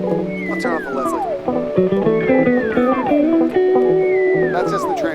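Clean electric guitar played through a Train Wreck amplifier and Bradshaw rack system with the Leslie switched off, sounding glistening; close, sustained notes with repeated descending slides over ringing chords.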